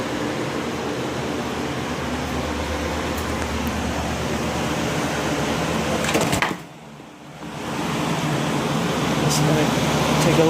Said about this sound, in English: Heavy-duty fans going in here.